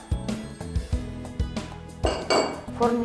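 Dishes and cutlery clink and knock in a kitchen as flour is tipped into a bowl for Sardinian gallette, a rapid series of close, sharp clatters and taps over about three seconds.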